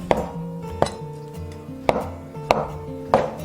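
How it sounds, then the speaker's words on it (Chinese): A knife chops through soft washed tofu on a cutting board, five sharp distinct knocks at an uneven pace, close and clear with no talking. "首先把洗净的豆腐切片"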